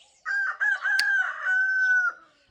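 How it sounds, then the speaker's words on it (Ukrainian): A rooster crows once, loud and close: a long, bright call that breaks into a few notes and then holds a drawn-out final note against near silence. "Півень. Співає, співає."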